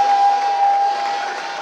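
Boys' basketball playoff crowd in a gym, a steady, broad wash of cheering and calling out to encourage the home team, loud and continuous with a sustained tone running through it.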